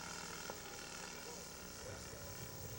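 A 30% scale model aircraft drones steadily on its landing approach at a scale aircraft show, a faint, even engine hum heard under a voice talking.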